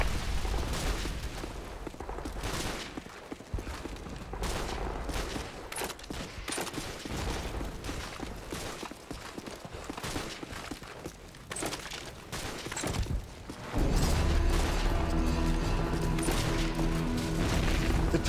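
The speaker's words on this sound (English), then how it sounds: "taking heavy fire on our position north of the overpass!" Heavy gunfire in a Call of Duty 4 battle near an overpass, dense crackling volleys and machine-gun bursts close and distant, punctuated by booms, with a low sustained drone taking over toward the end.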